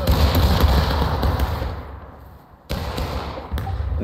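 Musket gunfire in the Civil War game War of Rights: a dense, loud rolling volley of overlapping shots that fades briefly, then resumes with sharp sudden cracks.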